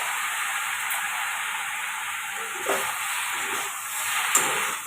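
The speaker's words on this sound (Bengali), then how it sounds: "খুব ভালো করে নেড়ে নিচ্ছি।" Macaroni being stirred in a pan with vinegar and soy sauce, a steady hiss and sizzle with a few soft scraping bursts from the utensil, close and continuous without talk.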